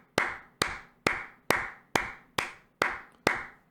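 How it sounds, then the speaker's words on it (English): Eight sharp, evenly spaced claps or knocks, each crisp and isolated with a short decay, at a steady rhythm of roughly two per second, with no voices. "Let's give ourselves a round of applause."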